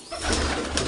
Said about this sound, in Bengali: দেখেন আমার কবুতরগুলো